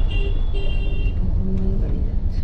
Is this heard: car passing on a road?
yes